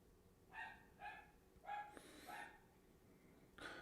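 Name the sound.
neighbor's dog barking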